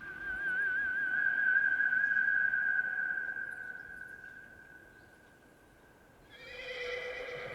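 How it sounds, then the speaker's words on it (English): Shadowfax, the white horse in The Two Towers, answers a long, steady whistled call that fades out, then gives a fairly close, shrill whinny near the end. "this always had an impression on me when I saw Gandalf the White call the horse. Shadowfax."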